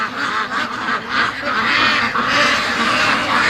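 A flock of free-range ducks on a farm quacks and honks in a dense, continuous chorus, loud and close.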